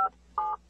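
Two short telephone dialing tones beep in quick succession, clear and close, with silence between them.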